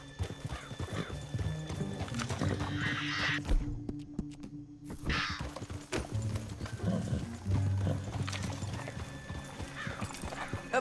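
Horse hooves clip-clop in a steady rhythm close by in Red Dead Redemption 2, with a brief neigh partway through.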